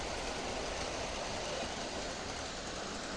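A model railway locomotive in fine condition, with a front light and lit carriages, rolls around a layout at a model and transport festival, giving a steady, even rumble with no breaks.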